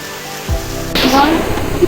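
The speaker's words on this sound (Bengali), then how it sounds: "সকাল থেকে বৃষ্টি পড়তেছে তাই" Rain falls near a waterfall, a steady wash of hiss building suddenly into a louder splashing roar, with a thud and faint voice-like tones in the mix.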